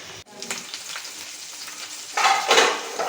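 A pan of curry bubbles and sizzles steadily on the stove, growing louder and more vigorous toward the end.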